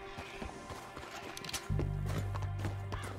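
A horse in the video game Red Dead Redemption 2 sounds a few clip-clop hoof beats, then a louder low rumble with tonal game sound takes over partway through.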